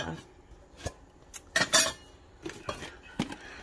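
Lids come off the containers of a candle making kit in a quiet room, with a series of light clicks, clinks and scrapes spaced irregularly and no talking.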